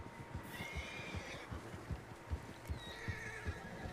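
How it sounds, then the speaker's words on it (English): Several horses whinny and neigh in high drawn-out calls over a steady clip-clop of hooves, fairly close, in Red Dead Redemption 2. "Horses, quite a few of them."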